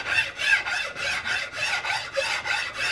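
Coarse file rasping steadily across a wooden CVA Hawken muzzleloader rifle stock, rounding a boxy corner, with about ten even back-and-forth strokes in a close, steady rhythm and no talk.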